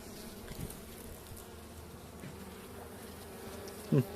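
A soft, continuous buzzing of many honey bees in a hive, low and steady, with a brief close bump near the end.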